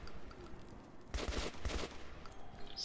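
Gunfire in the shooter Metro 2033 Redux, a short burst of rapid automatic shots in two close clusters, moderately distant and fairly faint, over quiet ambient background.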